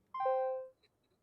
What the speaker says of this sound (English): I like the little chime sound.